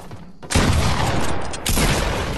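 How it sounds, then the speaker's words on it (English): Shotgun fire in the video game Fortnite: an abrupt loud blast with a heavy, noisy tail, followed by a second blast about a second later, no talking over it. "Coming in with that shotgun."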